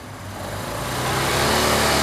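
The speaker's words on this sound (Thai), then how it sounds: "เดี๋ยวมาฟังเสียงท่อคันนี้กันครับ นี่สตาร์ทติดง่ายครับคันนี้เป็นท่อเดิมนะฮะ" A 2018 Suzuki Van Van 200 motorcycle with its original stock exhaust and about 17,000 km on it is revved close by. The engine note rises and grows louder to a sustained high rev.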